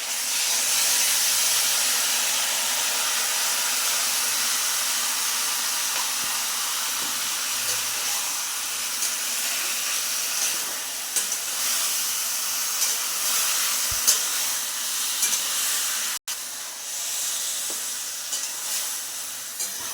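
Food frying in a pan on the stove hisses and sizzles loudly and steadily, with faint stirring scrapes throughout and no talk.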